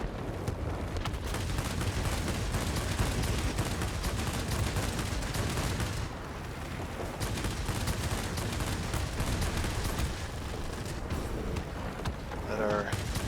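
Aircraft guns of a Focke-Wulf Fw 190 D fighter firing in World of Warplanes, a dense, continuous roar of rapid gunfire mixed with engine noise throughout, briefly dipping near the middle, with a voice talking over it.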